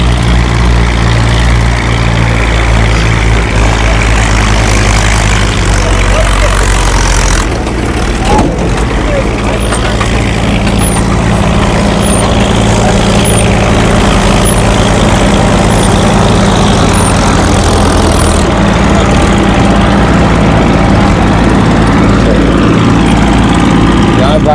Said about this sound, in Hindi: ये देखिए, वो ट्रैक्टर लेके आ रहा है और ये मशीन में डाल रहा है।